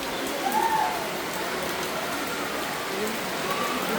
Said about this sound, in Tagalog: ang lakas-lakas po ng ulan